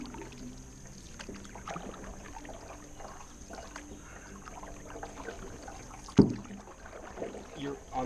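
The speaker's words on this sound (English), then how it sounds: "You're paddling on the wrong side, Connor." Canoe paddled on calm water beside someone fishing, soft steady paddle strokes and drips continuing throughout, with one sharper splash or knock near the middle and quiet voices nearby.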